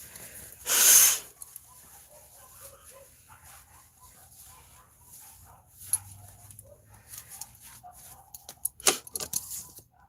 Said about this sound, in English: it sounds like 2 dogs fighting